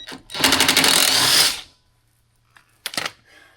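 An impact gun works a long bolt on a Jeep, one loud close burst of about a second, then a pause and a shorter second burst.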